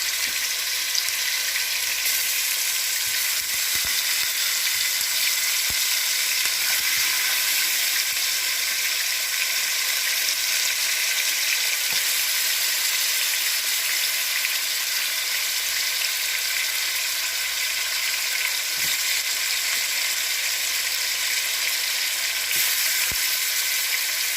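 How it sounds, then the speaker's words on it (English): Seasoned oxtail browning in a pot for a Jamaican-style dish, giving a loud, steady, dense sizzle that holds for the whole stretch, with a few faint clicks and no talking. "We're just going to brown it."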